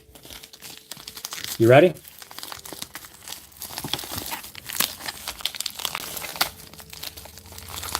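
Pokémon card pack wrappers crinkle and tear open in one brief, loud burst near the microphone, with people talking before and around it.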